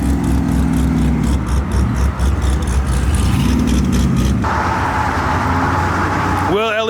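A modified new Ford Mustang GT500 leaving a car meet, its engine droning loudly and close with rising and falling revs as it pulls away, while people talk over it.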